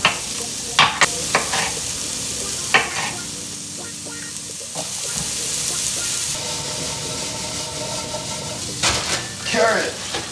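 Sliced red onion and peppers dry frying in a pan for a sweet and sour stir fry, giving a continuous low sizzle with scattered clicks and scrapes of stirring, fairly close and steady throughout.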